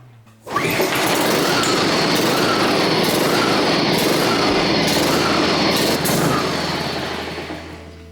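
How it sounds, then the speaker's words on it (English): Honda lawn mower with a stuck valve pull-started and catching at once, then running loud and close with a steady roar that sags slightly toward the end as the engine surges. "started first pull"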